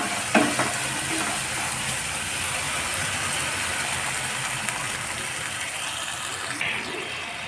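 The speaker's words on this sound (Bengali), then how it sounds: "মশলাটা ভাজা হয়ে আসছে এবং তেল ছেড়ে দিয়েছে" Masala spices frying in oil in a pan until the oil separates, a dense, even, close sizzle that holds steady throughout with faint stirring touches and no voices.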